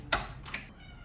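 A house cat gives two short meows close by, one after the other, in a quiet room.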